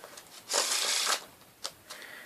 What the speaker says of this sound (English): now I'm going to give the deck a shuffle